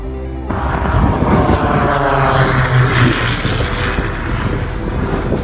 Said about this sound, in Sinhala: මේ ඇවිල්ලා 4RWRN කියන Sakura Aviation එකේ ප්ලේන් එක